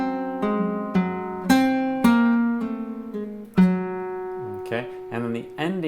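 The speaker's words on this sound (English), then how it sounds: "This is almost like a rest stroke arpeggio" Flamenco guitar playing a rest-stroke arpeggio in a soleá, a steady run of clear plucked notes that ring and overlap, close and moderately loud, with a few brief wavering tones near the end.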